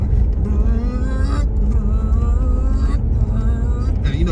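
Honda S660 three-cylinder engine revving hard inside the car, a steady loud drone with rising pitch sweeps and a brief dip between gear changes, under ongoing road rumble.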